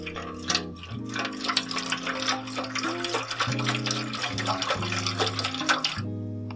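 Canned liquid poured into a cooking pan for candied ham and chicken with sausage: a steady splashing pour running throughout, over a constant tonal hum.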